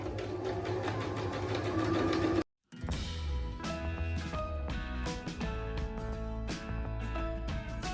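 A sewing machine stitches steadily around the edge of fabric for a small zippered pouch, with a brief pause before the rapid mechanical chatter resumes, close and continuous, with no talk.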